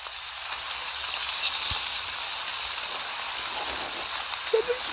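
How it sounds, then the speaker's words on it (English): Rain in The Dark Pursuer video game falls as a soft, steady hiss that continues evenly, with a faint thump or two underneath. "Fuck it, I'm running out in the rain, I don't care."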